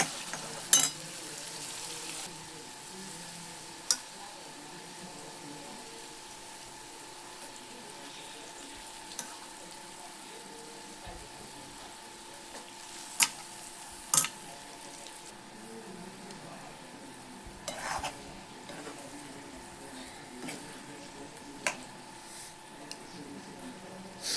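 Chickpeas stirred into roasted masala in a pan on a wood-fired chulha, producing a soft steady sizzle with occasional scraping clicks from the spoon, faint and continuous.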